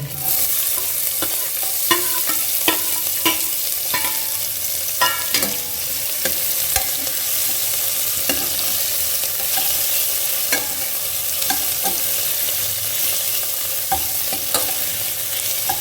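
Finely chopped onions and green chillies frying in a pan for a mixed dal tadka, a loud steady sizzle with regular sharp clinks and scrapes of a spoon stirring throughout.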